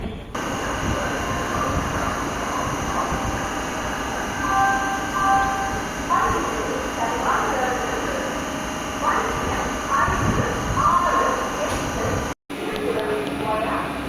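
A MEMU passenger train rumbles steadily with broadband rolling noise and a high electric whine, running loud and close for the whole stretch at Tiruchirappalli Junction, India.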